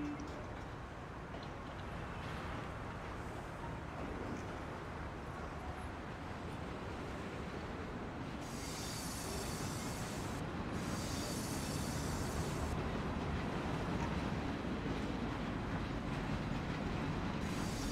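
Steady rumbling and rattling of a train ride in the Mafia video game, a continuous low rolling noise with faint higher hissing swells partway through, no talk over it.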